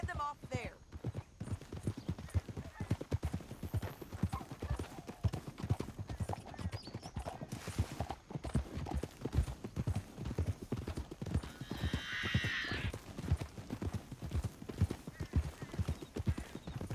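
Horse hooves clip-clop in a steady, continuous rhythm, close and fairly loud, with an occasional whinny amid the trotting, in the video game Red Dead Redemption 2.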